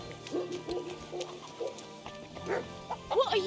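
A dog in the medieval game Kingdom Come: Deliverance 2 gives a series of short, fairly faint barks and yips at irregular intervals, then a sharper whining yelp at the end, over ambient background noise.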